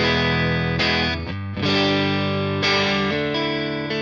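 Electric guitar with a clean tone on the neck pickup through a Fender Blues Jr amp: a few full, sustained strummed chords ring out loud and close, with brief gaps between changes and no voices.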